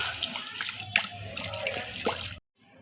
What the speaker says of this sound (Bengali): এতে দিয়ে দেবো জল